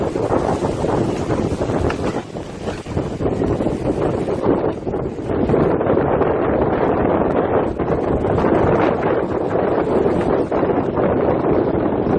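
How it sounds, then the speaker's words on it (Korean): Strong wind roars and buffets the microphone while riding, a loud, constant rushing that swells slightly partway through, with no voices. "바람 소리 좀"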